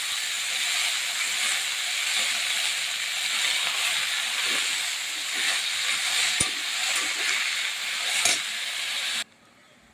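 Garlic and chili fry in oil as leafy greens go into the pan, making a constant, even hiss of sizzling with a couple of brief pops before it stops suddenly.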